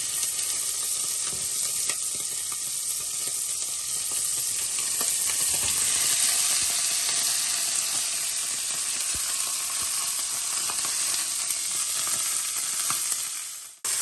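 Onion and chicken pieces fry in a pan, giving a steady, loud, close sizzle with faint stirring scrapes throughout and no voices.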